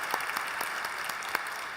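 A church congregation at a special invitation worship service applauds a band, a brief burst of dense, even clapping from many hands filling the room.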